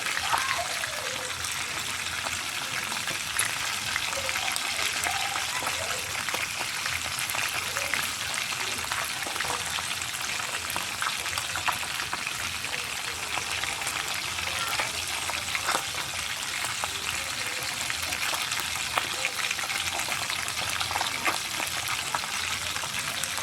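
Milkfish (bangus from Dagupan) fries in a pan with a dense, constant crackling sizzle that holds at the same level throughout, close and loud, with no clear talk.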